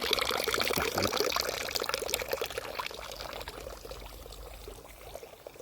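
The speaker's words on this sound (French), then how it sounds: "je me suis arrêté près d'une petite fontaine, eau potable" Water runs from a small drinking-water fountain on a mountain trail in the Alps, a steady close splashing pour that gradually softens and thins toward a trickle, heard alone.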